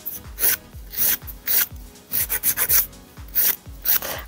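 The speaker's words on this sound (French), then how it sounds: "on vient affiner sur les côtés. Sans venir limer la parallèle sur le haut." A nail file rasps along the sides of a fingernail in quick, regular back-and-forth strokes, close and clear, with a gritty scraping texture and no talk.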